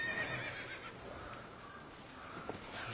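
A horse whinnies against a steady background, with a faint sharp knock partway through.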